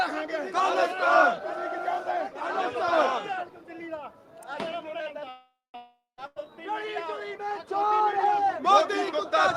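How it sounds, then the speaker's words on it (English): A dense crowd at a Khalistan referendum rally in San Francisco chants loudly in unison, rhythmic shouted phrases rising and falling, with a short lull mid-way before the chanting resumes at full strength. "You can see how dense this crowd is."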